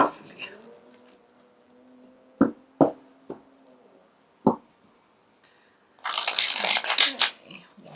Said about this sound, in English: More shuffle. I've been shuffling them.